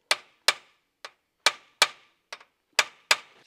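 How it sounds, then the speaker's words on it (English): Eight sharp metallic hammer strikes on bolts of an ABF inlet manifold, at irregular intervals, each a crisp clang with a short decay, loud and close in an otherwise quiet space. "with a hammer, we're gonna shock these three bolts"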